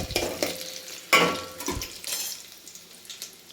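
Soaked basmati rice tipped into a hot pan, giving a sharp burst of sizzle with a clatter near the start, then a steady softer frying hiss with light stirring scrapes, close by and without talk.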